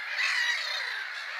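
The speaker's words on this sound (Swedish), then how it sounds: "Så mycket fåglar som samlas på samma plats." A large flock of common cranes calls at Lake Hornborga in early morning, a dense, continuous chorus of overlapping trumpeting and squawking voices with no talk.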